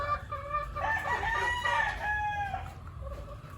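Gamefowl roosters on a game farm crow in a long drawn-out call over soft clucking and faint farmyard background, moderately quiet and at a short distance.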